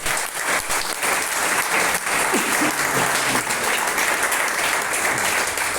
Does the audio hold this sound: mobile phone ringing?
no